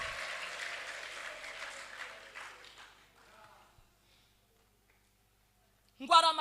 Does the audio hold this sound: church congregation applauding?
yes